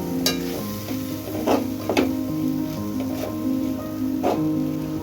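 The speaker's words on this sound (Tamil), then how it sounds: "மிளகாய்த்தூள், மஞ்சள் தூள், மல்லித்தூள் இது 3மே சேர்த்து இந்த எண்ணெயிலேயே நல்லா வதக்கணும்" Tomato masala with chili, turmeric and coriander powder sautéing in oil in a pan, with a soft sizzle under repeated clanks and scrapes of a spoon stirring against the metal.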